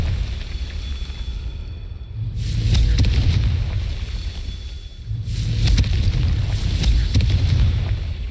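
Confringo blasting spell in Hogwarts Legacy, two booming explosive bursts a few seconds apart with rumbling low end over a steady background.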